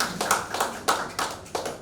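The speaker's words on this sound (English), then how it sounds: "Let's clap for the chamber." A few sharp, distinct hand claps at irregular intervals, crisp and fairly close, from a small audience.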